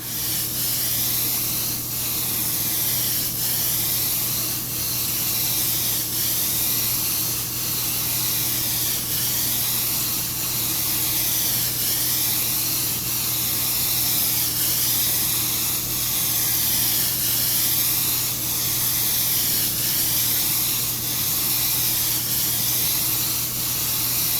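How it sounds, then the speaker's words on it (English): Airbrush spraying opaque paint while angled at about 45 degrees, a steady continuous hiss of air and atomized paint that holds at an even level throughout with a faint low hum beneath. "I've got the airbrush angled at about 45 degrees"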